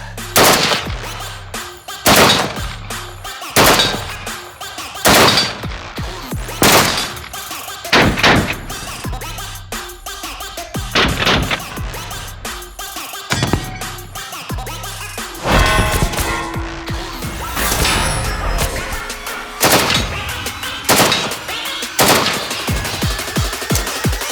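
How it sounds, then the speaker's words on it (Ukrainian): AK-12 rifle fired in split double shots, loud sharp gunshot pairs cracking out in a steady rhythm across the stretch, each pair close together with brief gaps between. "це подвійний постріл, який дає можливість е, ну, краще вразити ціль"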